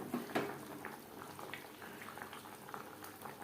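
A pot of light Bengali fish curry with potatoes and fried fish simmers in thin gravy, giving a soft, steady bubbling hiss at low volume with a few slightly louder pops early on.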